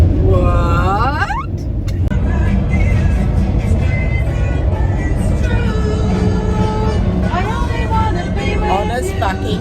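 Constant roadway rumble from busy motorway traffic heard from above, a loud, steady low roar of passing vehicles with swelling engine tones and speech mixed in over it.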